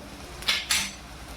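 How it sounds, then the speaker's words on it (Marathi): A spoon clinks against a cooking pan as turmeric is added to a Marathi-style green bean dish. Two quick, bright metallic taps ring close by over a quiet background. "चला मग आता याच्यात लगेचच आपण हळद टाकून घेऊ"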